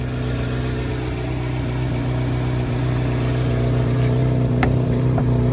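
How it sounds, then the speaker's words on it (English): A 5.5-litre V8 car exhaust idles with a deep steady burble and gives a few short throttle blips near the end, loud and close, with no one speaking. "Now this exhaust I really like. It's just got a nice aggressive sound to it."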